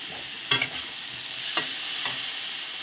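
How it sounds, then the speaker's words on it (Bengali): Spices get stirred into a frying shola kochur ghonto, a vegetarian taro curry, over a constant close sizzle, with three scraping strokes of the spoon across the pan. "ভালো করে নেড়ে নেব"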